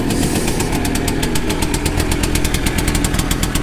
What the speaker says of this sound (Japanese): 今アイドリングを落ち着かせました。